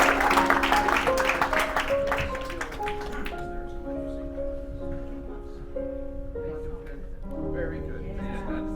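An audience at a 2014 charity show applauds as guests are welcomed onto the stage. The clapping is loud and dense at first, then fades after about three seconds while sustained musical tones carry on.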